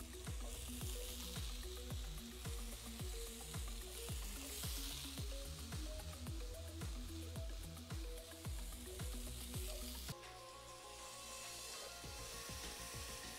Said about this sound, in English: we got that beautiful sizzle action now.